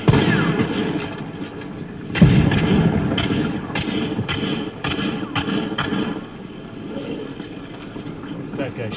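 Gunfire in a video game rings out as a handful of sharp, scattered shots with the loudest burst near the middle, over game rumble while a player talks throughout.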